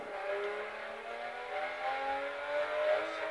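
A rally car in Forza Horizon on the Kettle Hills course, its engine strained and grinding through the gears, rising in pitch at mid distance with no talk over it.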